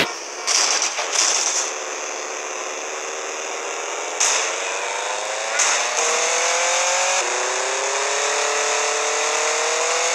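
A fast car's engine in a video game drones steadily through the whole stretch, with harmonic bands shifting as the revs change and a few sharp bursts near the start and middle. No one talks.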